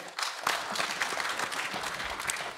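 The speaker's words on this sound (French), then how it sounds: "Est-ce qu'on peut applaudir nos panélistes, s'il vous plaît?" A conference audience applauds its panelists, a sustained crowd clapping that rises quickly at the start and stays full and even to the end, with no voices over it.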